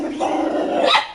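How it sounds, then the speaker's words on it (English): A dog gives one loud, close growling bark that rises sharply near the end, heard on its own. "Oh, you barking now?"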